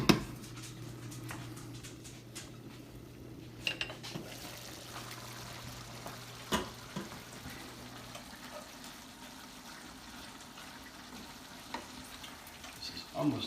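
Lasagna sauce bubbles in a pot on the stove, making a faint, low simmer with occasional soft pops and clicks, while a steady hum runs underneath for the first half.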